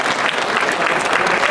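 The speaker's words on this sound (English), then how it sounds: "Applause." Steady, dense applause from a crowd at a Yu-Gi-Oh convention panel, continuous clapping at a constant level with no voices standing out.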